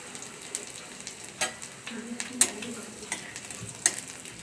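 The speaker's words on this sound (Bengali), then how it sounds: "রসুনটা একটু হালকা ভাজার গন্ধ হলে দিয়ে দেবো" Chopped garlic and small pieces of dried chilli fry in oil, a soft steady sizzle marked by repeated spatula scrapes and sharp pops every second or so.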